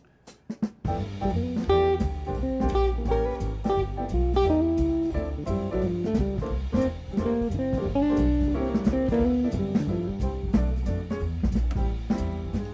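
Full music track transposed down to G plays loudly with deep, heavy bass and rhythmic percussion, a steady groove running throughout without any talking.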